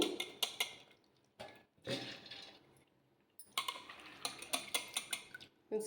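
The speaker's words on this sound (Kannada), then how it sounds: "ಇವಾಗ ಇದನ್ನು ರುಬ್ಕೊಳ್ಳೋಣ ಜಾರಿಗೆ ಹಾಕ್ಕೊತಾ ಇದ್ದೀನಿ" Soaked urad dal for medu vada being tipped and scraped into a mixer jar: sharp clinks and taps of a metal spoon against the steel jar, bursts of rattling and scraping, close and fairly quiet.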